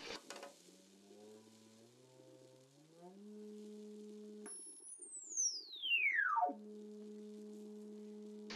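A cymatics wave generator emits steady electronic sine tones that step upward in pitch, then a high tone sweeps smoothly downward before settling into a low constant hum; clean and fairly quiet, with no talking.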